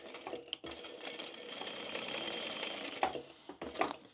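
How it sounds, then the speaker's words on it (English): A sewing machine that seems to need oil stitches a roughly 6 mm seam on a tote bag, a loud, steady whirring run close by that stops briefly near the end before a short restart. "My machine sounds like it needs a bit of oil."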